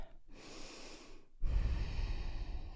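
A person in a yoga class takes a deep breath in and lets out a big exhale: a soft inhale, a short pause, then a louder, rushing outbreath, close and with no talking.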